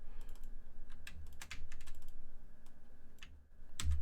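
Someone types on a computer keyboard while working on an old AT&T 6300 PC, with bursts of crisp, close key clicks in an uneven rhythm and a louder clack at the end, over a low background drone.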